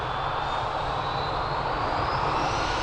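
Jet engines of an airliner roar loud and steady during takeoff at Lisbon Airport, with a rising whine over a broad rushing noise and no talking.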